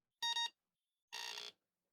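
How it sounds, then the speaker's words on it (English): A repaired keyboard computer gives two short, harsh buzzy beeps in quiet surroundings, the first brief and clipped, the second slightly longer, with silence between and after. "see if we just have a normal sounding AppleSoft Basic beep"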